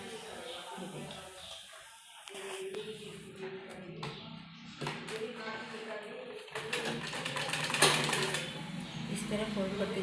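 A sewing machine runs in short bursts while stitching a folded fabric strip onto a baby frock for a 1-2 year old, its whirring mixed with handling noises and someone talking over it.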